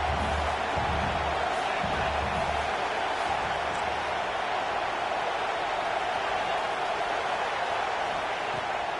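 Football stadium crowd during a game, a steady wide roar of many distant voices with a low rumble that holds constant, under faint broadcast commentary.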